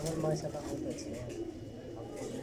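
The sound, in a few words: pigeons cooing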